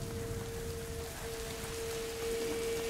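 Steady in-game rain falling in the video game A Plague Tale: Innocence, a continuous hiss of drops on surfaces with a low rumble beneath and a constant faint tone running through it, no voices.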